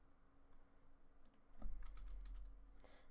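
Keys tapped on a computer keyboard while writing Bukkit plugin code, a short burst of quick clicks close up, over a low thump and faint room hum, with no talking.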